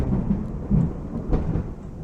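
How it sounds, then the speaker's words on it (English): Loud, rolling thunder rumbles through the Amerzone adventure game, a sustained low roar with a couple of swelling peaks over steady rain-like noise. "Some loud thunder out there."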